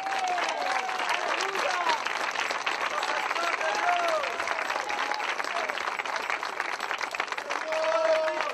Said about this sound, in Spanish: Dele palmas fuertes que son para el Señor.